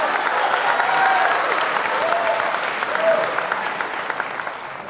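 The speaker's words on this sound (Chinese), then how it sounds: "谢谢大伙的掌声鼓励啊" An audience at a Chinese crosstalk comedy show breaks into sustained applause, dense and loud at first, then gradually thinning toward the end.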